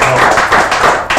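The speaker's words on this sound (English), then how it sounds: "Round of applause to them." Applause and hand clapping from a small group in an indoor studio at the close of a casual talk show episode, a dense continuous patter of claps that stays loud throughout.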